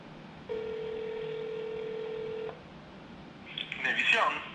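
A keypad tone on a phone call to an automated menu of the Houston Police Department. A single steady electronic beep holds for about two seconds, and then voices start speaking on the line.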